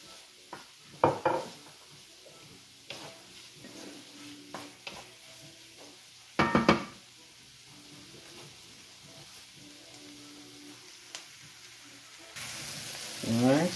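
Ginger and garlic frying in oil in a pan, a soft sizzle under repeated stirring, with sharp clatters of a utensil against the pan and a louder burst of sizzling near the end.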